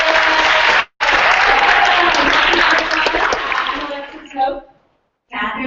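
Audience applause at an MIT breast pump hackathon, a dense sustained burst of many clapping hands that cuts out briefly, swells again, then fades away to silence before a short renewed patter.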